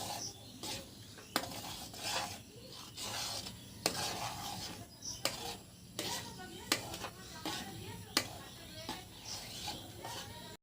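Sweet vermicelli milk pudding with sugar being stirred in a pot, with a spoon knocking against the metal in repeated sharp clicks every second or so over a low bubbling simmer, quiet and close.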